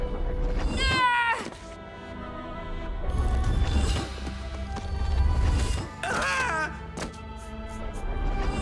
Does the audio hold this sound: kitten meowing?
yes